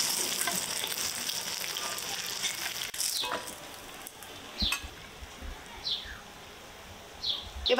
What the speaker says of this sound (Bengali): মাছগুলো একটু কড়া করে ভেজে নিয়েছি